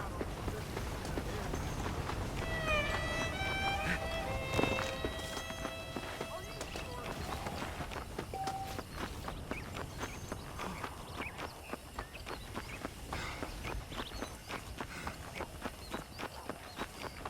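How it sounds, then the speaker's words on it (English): Horse hooves clip-clop in the Western game Red Dead Redemption, a steady rhythmic trotting under spoken dialogue and a few musical tones, continuing for the whole stretch at moderate volume. "The horses are saddled up over here."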